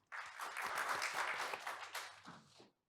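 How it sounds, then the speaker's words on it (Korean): Audience at a keynote speech event breaks into applause, a dense burst of clapping starting abruptly, holding steady for over two seconds, then tapering off and stopping. "여러분 큰 박수 부탁드립니다."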